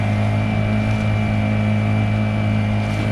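A Honda 50cc outboard motor with a tilt system runs at a steady idle with a constant buzzing drone and even harmonic hum, close and loud, with no voices.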